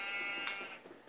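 Sheep bleating in the Minecraft video game, a few short quiet bleats spread across a brief moment with no talking.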